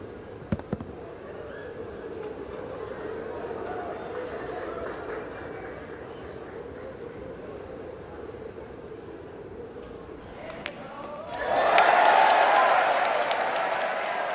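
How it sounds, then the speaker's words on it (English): Crowd at the 2009 World Cup of Pool doubles final erupting near the end after a long stretch of low, steady crowd murmur, loud roaring and cheering rising suddenly. "The crowd is going bonkers."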